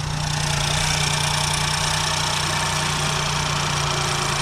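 Ford EcoSport 1.0 EcoBoost three-cylinder engine idling just after a wet timing belt change, a steady, even low hum with a faint regular pulse, close and unbroken throughout.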